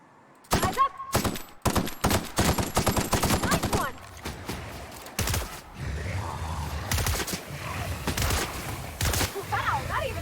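Gunfire from a weapon in the video game The Outer Worlds: a quick string of sharp, close shots in the first seconds, then scattered louder blasts over a low rumble with a voice talking in between.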